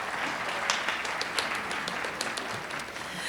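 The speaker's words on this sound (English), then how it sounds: "let's give them a round of applause for their hard work" Audience applauding students at a high school Science National Honor Society induction ceremony: steady, fairly soft clapping from a roomful of people with scattered sharper individual claps throughout.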